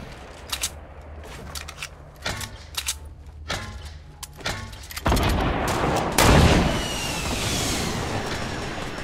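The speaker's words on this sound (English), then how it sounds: "Shot fired." Rapid bursts of gunfire in the Fortnite video game, several sharp shots in quick succession followed by a louder, sustained rush of firing and explosion-like noise.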